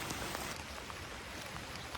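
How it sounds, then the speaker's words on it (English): Light rain falls over a garden, a soft, even patter that continues throughout at a quiet level, with no voices. "it's raining a little harder now, so I'm having to kind of rush"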